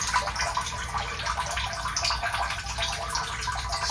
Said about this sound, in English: I plugged it in, and the pump activated